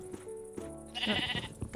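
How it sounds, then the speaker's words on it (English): Sheep in a modded Minecraft game bleating in short, wavering calls, two or three distinct bleats in quick succession, close and clear, with a voice briefly heard alongside. "Come on, I don't want to hit the sheep."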